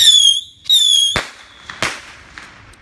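Fireworks go off nearby: two loud rising whistles are followed by a sharp bang, then several more cracking pops that fade into the distance.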